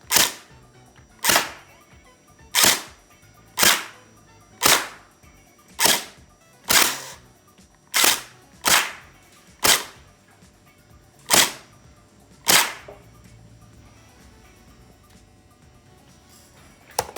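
A budget MX316 Gen 8 gel blaster kit fires about a dozen sharp, snappy shots at a fairly steady pace of roughly one per second. The shots are close and loud, and a quiet pause follows.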